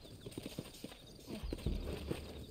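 Horse hooves clip-clop in Red Dead Redemption, a quick uneven run of hoof strikes on the ground at moderate distance, over a faint ambient game soundscape with no talk.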